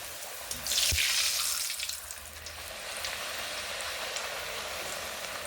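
Pumpkin puris dropped into hot oil and frying, a sudden bubbling sizzle that then settles into a steady, even crackle close by, with no talking.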